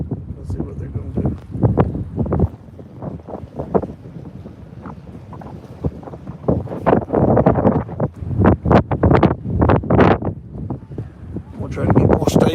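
Strong gusty wind buffets the microphone outdoors by a creek, a low rumbling roar that surges and drops throughout while someone talks over it.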